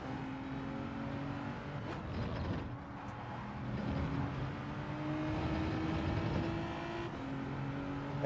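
A G70 car racing in Gran Turismo 7, its engine droning steadily with shifting pitch as it accelerates and changes gear, at a moderate level with no talking.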